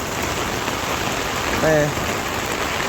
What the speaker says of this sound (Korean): 여러분 빗소리 잘 들으시고요.